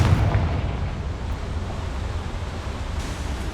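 Confringo blasting spell in Hogwarts Legacy bursts into a broad, rumbling explosion that roars at first and then settles into a sustained, noisy blast wash with no talk.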